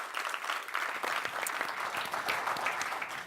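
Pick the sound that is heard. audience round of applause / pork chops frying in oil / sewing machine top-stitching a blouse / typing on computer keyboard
audience round of applause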